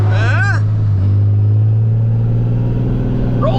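An old truck with hydraulic brakes drives along, its low engine drone humming steadily and loud throughout, with someone talking over it.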